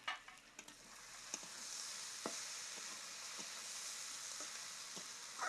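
Cabbage stalks sizzle faintly in a pan, the soft frying hiss broken by a few sharp clicks and scrapes from a stirring utensil, quiet and without talk.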